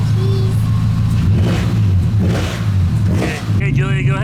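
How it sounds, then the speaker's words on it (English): Nissan S14 Silvia with a bigger turbo and Greddy manifold, its loud exhaust droning close up and rising in a few revs, while a voice talks over the engine near the end. "And I love the sound of the exhaust. It sounds really good. Super loud."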